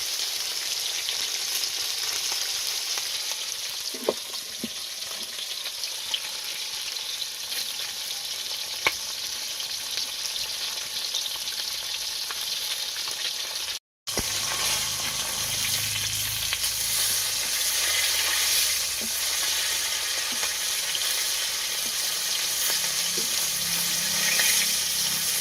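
Seula fish frying in a pan gives a continuous, steady sizzle with occasional faint clinks and one brief dropout, close and unbroken by any voice.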